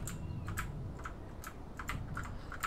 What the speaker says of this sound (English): So try and fly it with the arrow keys.